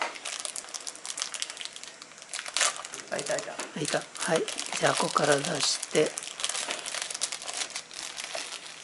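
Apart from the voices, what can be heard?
opening a taped micro:bit box, crinkling packaging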